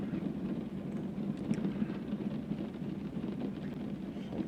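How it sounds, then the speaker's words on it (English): Rain in San Francisco in American Truck Simulator, a steady soft hiss of falling rain with a low rumbling undertone, fairly faint and continuous with no voices. "And it's raining in San Francisco"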